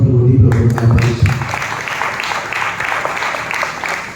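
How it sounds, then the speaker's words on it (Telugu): A congregation claps in praise during Christian church worship. A voice is heard briefly at first, then loud, dense, steady applause fills the room for several seconds. "చప్పట్లు కొట్టి ప్రభువుని ఆరాధిస్తాం."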